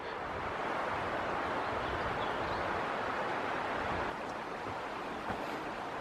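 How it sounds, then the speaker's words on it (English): A creek flowing in a canyon gulch below a mountain trail, heard as a steady, broad rushing wash that stays constant and fairly distant throughout, with no voices. "I can hear a creek down below us."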